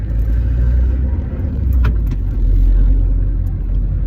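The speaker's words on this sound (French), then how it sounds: "je suis un peu en train de conduire là" A car travels along a road with a steady, close low rumble of engine and tyres inside the cabin, broken by a couple of faint brief clicks.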